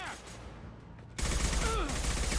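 Gunfire in Mass Effect 2 bursts in suddenly and loudly, a dense, continuous fusillade of rapid shots that persists to the end, with a voice briefly heard alongside it.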